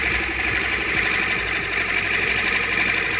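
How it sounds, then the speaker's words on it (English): A Harrison lathe spinning up with work held in a 3-jaw chuck, a steady mid-pitched machine hum and whir with a fine vibrating rattle, continuous and fairly loud. "I'm going to put it up in the Harrison in the 3-jaw chuck, and we're going to spin it up"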